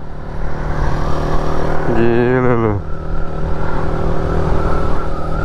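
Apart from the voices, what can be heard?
Kawasaki Z125 motorcycle engine revving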